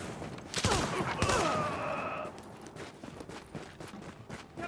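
Gunfire in The Division, a looter-filled urban area: a dense cluster of shots crackles early, then scattered sharper reports and footsteps continue at moderate distance.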